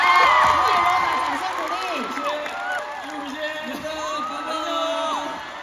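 A concert crowd cheers and applauds, loud whoops and high shouts rising over steady clapping for the whole stretch.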